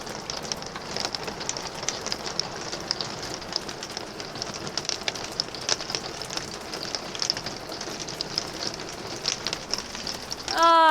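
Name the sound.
hail falling on a roof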